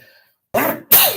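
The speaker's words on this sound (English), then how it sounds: "I always sneeze when I'm doing these shows." Two quick sneezes, close and sharp, the second louder than the first, following a moment of near silence.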